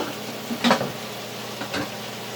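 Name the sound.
mushrooms sizzling in a pan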